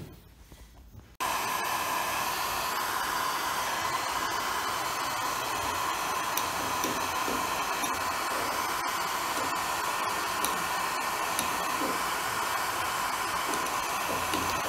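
After a short quiet moment, a heat gun switches on and blows a steady, loud airy whoosh with a constant hum as paint is stripped from a door frame in a home renovation.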